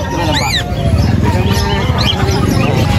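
Many caged birds for sale at a pet market in Angeles City, chirping and squawking in short rising calls over a steady crowd murmur, with people talking nearby throughout.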